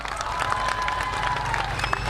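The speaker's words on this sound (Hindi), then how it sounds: "ताली बजाओ उसका लिए।" A crowd claps and cheers at a BJP political rally in Shillong, Meghalaya, a short burst of dense applause with a voice faintly audible underneath.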